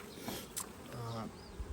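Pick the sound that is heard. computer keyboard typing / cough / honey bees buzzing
honey bees buzzing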